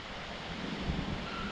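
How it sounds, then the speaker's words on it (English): Wind gusts in a brief, steady rush past the microphone outdoors at a fence and gate building site, a broad roar with no voices. "Damn, it's windy."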